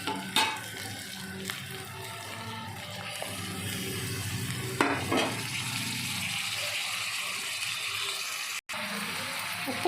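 Vegetables sizzle in a pan for kalegura, a soft steady frying hiss broken by a few scraping stirs of a spoon, fairly quiet with a brief dropout near the end.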